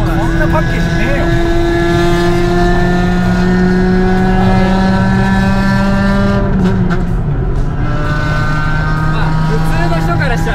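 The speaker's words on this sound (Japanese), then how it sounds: "普通の人からしたらあんなセダンの車がやべえ音してるなっていうね。" A 2.5-liter, 500-horsepower manual sedan engine revs loudly and steadily, its harmonic tones climbing and holding, then dipping briefly around the seventh second before settling back into a sustained drone.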